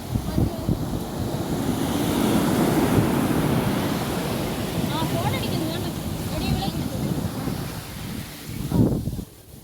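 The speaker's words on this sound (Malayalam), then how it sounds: "കടൽ പറ്റിച്ച് കണ്ണാ" Sea waves wash onto a beach under strong wind noise, with distant voices mixed in.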